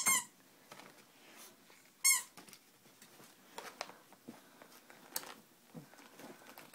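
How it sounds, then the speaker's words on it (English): A squeaky toy gives two sharp, high squeaks near the start and again around two seconds, followed by soft rustling and small movements in a quiet room. "Squeak it."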